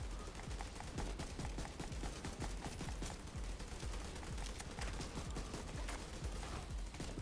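Rapid, dense pistol gunfire in the video game The Division 2, a continuous crackle of overlapping shots and impacts heard at moderate distance, with no talking.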